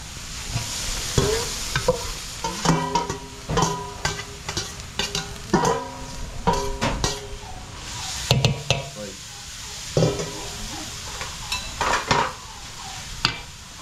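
Mixed vegetables sautéing in a pan, a close sizzle broken by rhythmic metallic clanks and scrapes of a utensil stirring, with brief speech-like sounds mixed in.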